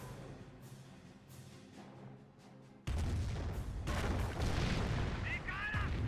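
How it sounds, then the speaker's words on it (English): Landmine explosion in the video game Company of Heroes, a sudden heavy blast that jumps out of quieter battle noise and rumbles on amid continuing gunfire and artillery. "Landmine detonated there."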